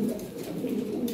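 Fancy pigeons cooing in a loft, low soft throaty coos that overlap in a continuous murmur, close by.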